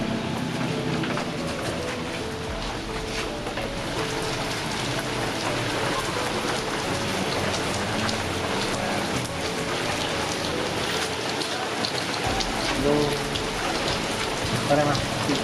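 Heavy rain pours down steadily and close for the whole stretch, a dense, even hiss with no break, at a mosque in Yogyakarta.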